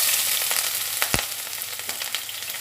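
Green chillies and onions frying in hot oil, a loud, steady crackling sizzle with a few sharper pops and a stirring scrape.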